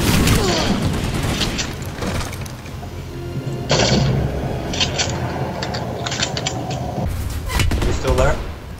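Battle in the video game Planetside 2, with tanks rolling through heavy combat: a dense, loud barrage of gunfire and booming blasts runs continuously, with brief shifts in intensity and a voice underneath.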